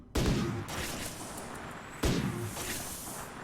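Two loud, close bursts of gunfire in the colony-sim game RimWorld, fired at plasteel targets, each sharp crack followed by a long decaying rumble, about two seconds apart.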